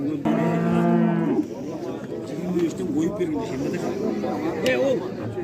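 Cattle at the Kurshab livestock market let out a loud, close, drawn-out moo lasting about a second, followed by a busy background of market chatter and voices talking nearby.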